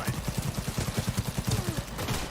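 Rapid bursts of smart-gun fire in a video game crackle in a steady, fast rhythm through the whole stretch, close and moderately loud, with some faint voice underneath.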